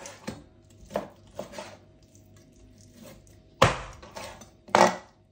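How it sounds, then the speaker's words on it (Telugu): A kitchen knife chops through chicken bones, giving sharp, scattered thuds on a board: a few lighter strikes, then two loud, close, heavy chops near the end, with no talk. "సో అందుకే నేను దానిపైన కత్తి పైన కొడుతున్నాను."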